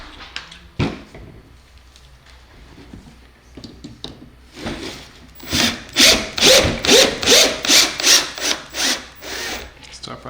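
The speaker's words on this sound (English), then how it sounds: "To your 1/2 inch tapping tool. Put it in your drill. Tighten it down." A drill drives a 1/2 inch tap cutting threads while a blue explosion-proof forklift light is assembled, starting with scattered handling noises and then a loud, close series of rhythmic grinding pulses.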